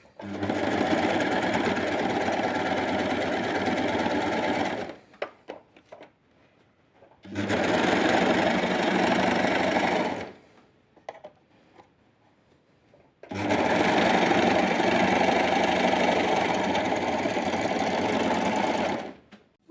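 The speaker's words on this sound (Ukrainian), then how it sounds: "Зараз задню половинку я оброблю на оверлоці, щоб була гарна, красива строчечка." An overlock sewing machine finishes the seam on the back half of classic women's underpants, running loud and steady in three long bursts separated by short quiet pauses with faint handling sounds.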